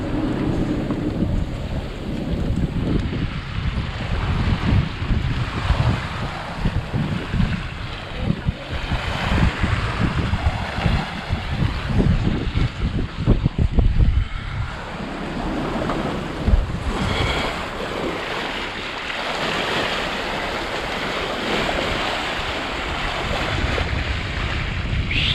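A ferry pushes through open sea, with constant wind buffeting the microphone over a steady wash of waves and hull noise throughout, loud and close, no voices.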